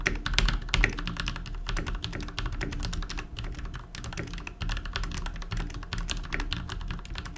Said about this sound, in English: I'll just give you a nice typing test so you can hear for yourself.